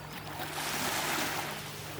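Sea waves wash onto an empty beach on a hot day as a soft, faint, continuous broadband surge, with a gentle swell in the middle and no voices.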